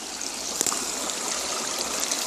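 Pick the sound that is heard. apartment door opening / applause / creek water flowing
creek water flowing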